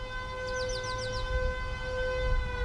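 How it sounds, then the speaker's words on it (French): An industrial site's alarm siren sounds to launch a fire drill, a steady multi-tone wail held throughout against low rumbling background noise, with a brief burst of chirping partway through. "Il est un peu plus de 10 h quand la sirène retentit sur le site de la Sarah"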